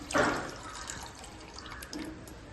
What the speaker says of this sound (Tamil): இதில் நம்ம கரைச்சி வச்சுருக்கேன் புளி தண்ணியை போட்டுருவோம்